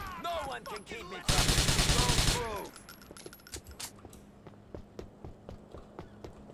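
A loud, dense burst of rapid gunfire in Grand Theft Auto 4 hammers for about a second, then scattered single shots crack and pop at a distance, with someone talking before and after the volley.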